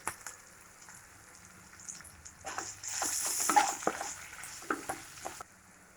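Chopped onion sautéing in oil in a pan with curry leaves, faint and close, starting quietly before a crackling sizzle swells for a few seconds with scattered pops, then eases back down.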